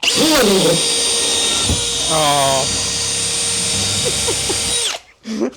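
A Milwaukee cordless drill with a Milwaukee speed feed bit whines steadily at high speed almost throughout, with a brief spoken exclamation, before it cuts off near the end.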